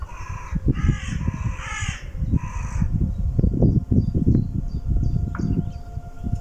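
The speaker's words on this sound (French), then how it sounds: "Vous entendez? Les oiseaux." Several crows caw outdoors in a rapid run of harsh, loud calls, then fade while other birds chirp faintly over a steady low rumble of wind or background noise.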